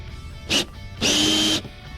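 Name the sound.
tightening T30 bolt on Sea-Doo gunwale footrest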